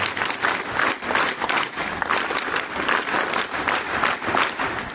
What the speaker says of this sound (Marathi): एकदा जोरदार आपल्या या आईसाठी जोरदार टाळ्या झाल्या पाहिजेत.